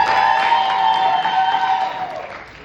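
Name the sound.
audience applause and cheering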